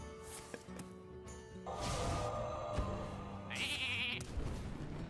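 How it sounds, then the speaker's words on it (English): Sheep bleat in short cartoonish bursts among light Hearthstone game sound effects and whooshes, fairly quiet, with a brief high-pitched chime near the end. "Sheep."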